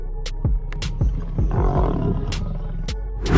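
A lion growls and roars in rising bursts while tussling with a crocodile over an impala carcass, deep and close, with repeated loud snarls.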